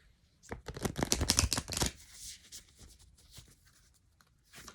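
Moonology oracle cards being shuffled by hand: a quick burst of riffling card flutters, then softer sliding and tapping of the deck, close and quiet.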